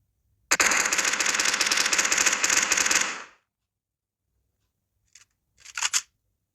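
Rapid automatic gunfire from a Minecraft weapons mod, a dense sustained burst of about three seconds, then silence and two short bursts near the end.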